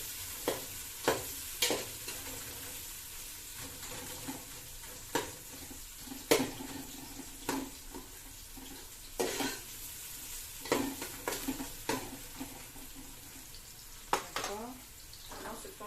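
Sliced onions sizzle steadily in a hot pan as they brown, with regular sharp scrapes and knocks of a utensil stirring them throughout.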